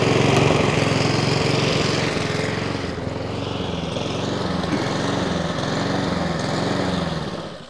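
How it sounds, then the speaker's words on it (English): A Honda Izy lawnmower engine runs close by and hunts, its speed surging and dipping in slow uneven waves instead of holding a steady idle, loud and continuous throughout. "It is hunting there."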